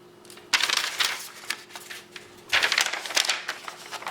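Victorinox ALOX Pioneer X scissors slice through sheets of fraction homework paper in two bursts of crisp rustling snips, close and fairly loud, separated by a brief quiet pause.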